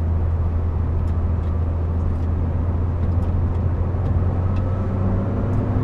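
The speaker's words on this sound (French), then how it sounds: "Il a une montée en régime franche." A 1999 Renault Mégane I coupé with the 1.6 16V 110 hp engine drones loudly and steadily under load, a continuous close engine hum with road noise and no talking.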